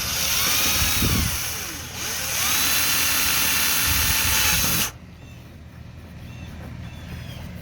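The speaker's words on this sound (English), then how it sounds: "You want to lift that rope up a little bit, Rick, so we don't hit it when you go with the drill." A power drill whines loudly and continuously for several seconds while drilling holes to install an anchor trolley, straining and then cutting off, leaving quieter background noise behind.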